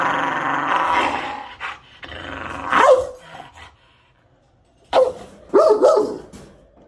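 A young puppy growls and barks up close in loud, rough bursts separated by short pauses, with a few quieter grumbles in between.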